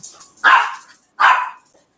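Two loud, close barks from a dog, evenly spaced with a short silent gap between them.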